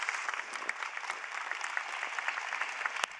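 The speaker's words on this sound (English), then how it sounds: "Big round of applause." A crowd at a college commencement applauds in a brisk, continuous wash of clapping, with a few cheers rising above it and one sharper clap near the end.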